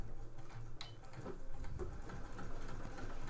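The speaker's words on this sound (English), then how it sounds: "I'm just going to do a little forward and backward stitch" A domestic sewing machine runs a short forward and reverse stitch on fabric for a festive cushion cover, giving a steady, close mechanical whir with light ticking, alone and without talk.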